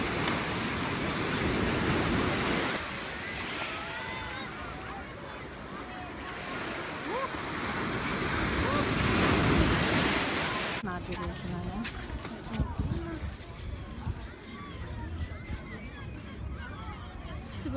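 Atlantic Ocean waves rolling and breaking on the beach at Ocean City, a constant broad roar with wind, plus nearby voices talking over the surf throughout.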